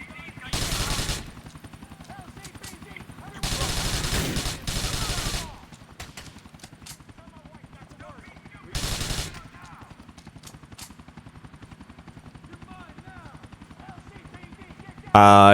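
Shotguns and other guns fire in a GTA 4 online match in loud, separate bursts of rapid shots with pauses between them, over a faint, crackly background with occasional talk.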